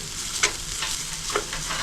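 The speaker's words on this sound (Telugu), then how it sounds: "ఈ విధంగా పచ్చివాసన పోయేంత వరకు లైట్గా వేయించుకోవాలి." Grated carrot fries lightly in a pan for carrot halwa, a soft steady sizzle with two brief stirring scrapes, close and quiet, with no talk.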